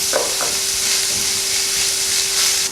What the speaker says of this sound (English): So after I cook the peas for about 4 to 5 minutes